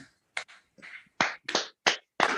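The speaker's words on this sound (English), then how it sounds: "give ourselves a big round of applause" Scattered clapping comes through from online meeting participants who have just unmuted, separate bursts of a few claps each with silent gaps between, sounding thin and compressed, as though heard over a call.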